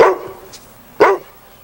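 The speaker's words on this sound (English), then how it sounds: "the dog is not afraid to speak up when he thinks something's wrong" A single dog barks twice, about a second apart, with short sharp yelps standing out clearly against a quiet background.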